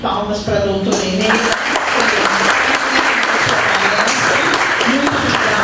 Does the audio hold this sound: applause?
yes